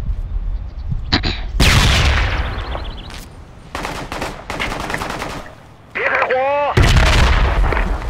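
Loud bursts of rifle and automatic gunfire from the infantry video game Project Reality go off in rapid, irregular volleys with short pauses, with a brief radio-like chirp in between.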